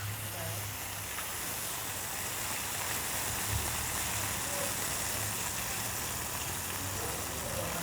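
Lobster cooks in a hot pan, giving a steady, unbroken sizzling hiss with a low hum beneath it and no clear voices.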